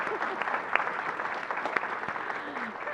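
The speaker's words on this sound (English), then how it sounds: "could you give the parents a round of applause?" At a school board meeting, the audience applauds parents with moderate, steady clapping from a seated crowd, a few sharper claps popping out over the even wash.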